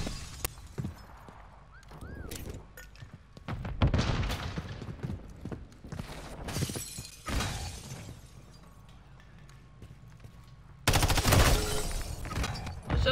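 Call of Duty Modern Warfare Search and Destroy match: bursts of close gunfire and sharp shattering impacts, with a heavy explosion-like blast near the end, amid game ambience and occasional brief voice fragments.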